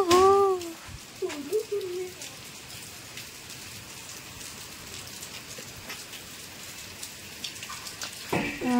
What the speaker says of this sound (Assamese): আৰু এয়া বাহিৰত চাওকচোন বৰষুণ।